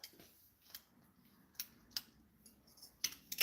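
Scissors snipping through a car's purge line, a few sharp, quiet clicks and snips spaced apart in a near-silent room.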